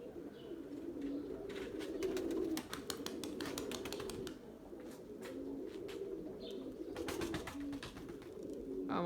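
Domestic pigeons in a loft coo in repeated low, throaty rolls, with scattered wing flutters and sharp clicks over a steady background murmur, and no voices.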